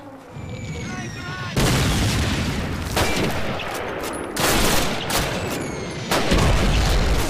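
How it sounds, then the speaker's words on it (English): Artillery and gunfire from the video game Call of Duty, set in a Warsaw tank factory: heavy, loud sustained barrages that start abruptly and surge in several waves, with a voice speaking briefly at the start. "Ah, artillery."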